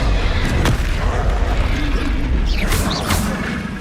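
Booming, mechanical magical blasts from a spell-casting duel in Hogwarts Legacy, an Expelliarmus disarming charm among them, with heavy low rumbles and a couple of sharp bright zaps over a continuous loud din.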